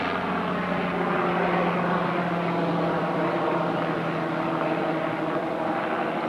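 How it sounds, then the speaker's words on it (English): A helicopter passes overhead at a forest camp, a steady, fairly loud droning rotor and engine hum that holds level throughout, with no voices. "helicopter coming over."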